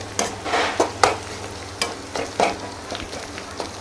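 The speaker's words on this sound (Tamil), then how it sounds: "பச்சை மிளகாய் அப்படியே ஒரு கலந்து விட்டுருவோம்" Green chilies are stirred into hot oil in a pan for a village-style prawn thokku fry, with a low sizzle under a series of scraping stirring strokes, about six distinct sweeps, close and with no talk.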